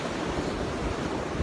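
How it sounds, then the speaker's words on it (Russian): Atlantic Ocean surf breaks in a steady, loud wash of churning water, with wind buffeting the microphone throughout the short stretch and no voices. "я пытался покорять эти волны Атлантического океана"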